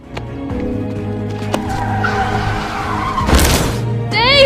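A car skids with a burst of screeching tire noise near the end of a staged stunt in a student visual effects film, over a busy soundtrack with music-like tones and a faint voice.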